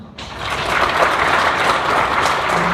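An audience at a Christian culture awards ceremony breaks into sustained applause for the award winners, the clapping starting abruptly and holding steady and full.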